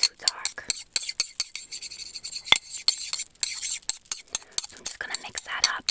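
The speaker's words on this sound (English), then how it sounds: "So I'm just gonna mix that up." Hair dye cream is stirred in a bowl with a brush, making quick, close sticky taps and scrapes in an irregular rhythm, with soft whispered talk in places.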